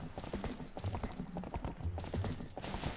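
Hooves clip-clop steadily as the horse Epona moves in The Legend of Zelda: Twilight Princess, a dense run of game hoofbeats with no talk over them.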